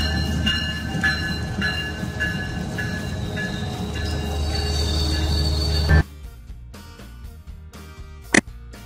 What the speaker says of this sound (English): Double-decker train, a type of train with two levels, designed to carry a large number of passengers on a single journey.